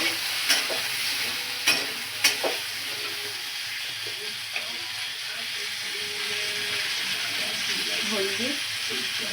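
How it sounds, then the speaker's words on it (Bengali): Bori lentil dumplings fry in a pan with a steady, close sizzling hiss, broken by a few sharp clinks of a spoon early on and faint scraping later. "এটাতে আমি বড়িটা ভেজে নিচ্ছি।"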